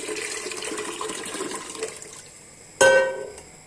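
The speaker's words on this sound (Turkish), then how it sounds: "Üzerine kaynar su ilave edelim." Boiling water is poured over washed, rinsed ingredients for a hearty Turkish soup: a close, steady splashing pour, then a sudden sharp clatter near the end.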